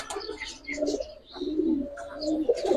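A Giribaz pigeon in a loft gives soft, close, rolling coos in a few short phrases, with light chirps from other birds around it.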